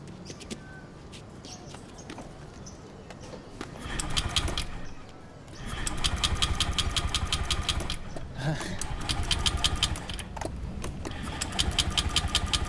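A motorcycle engine idles and then revs into a steady running drone, fairly close, with a brief dip partway through and light background noise.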